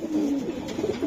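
A racing pigeon gives a low, close cooing call, a soft throaty warble rising and falling briefly, with no voices.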